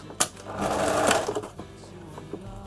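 A sewing machine stitching a seam on knit fabric for a shift dress, a short close burst of rapid mechanical whirring and needle clatter lasting about a second, then quieter handling sounds.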